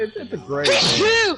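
A single sneeze bursts out at close range during a Rainbow Six Siege game stream, preceded by a short spoken phrase.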